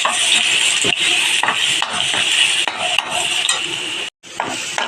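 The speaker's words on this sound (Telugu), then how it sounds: "ఈ క్రష్ చేసుకున్న అల్లం వెల్లుల్ని ఎట్లా వేసుకోవాలి అది కూడా లైట్గా ఫ్రై అవ్వాలి" Crushed ginger and garlic crackle loudly in a hot pan, a dense continuous sizzle broken by frequent stirring scrapes, with a brief near-silent gap toward the end before the frying resumes.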